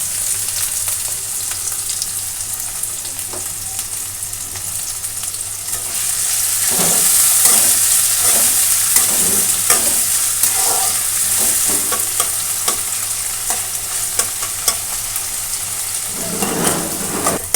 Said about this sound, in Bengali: পেঁয়াজ টমেটোটা ভাজা ভাজা হয়ে গেছে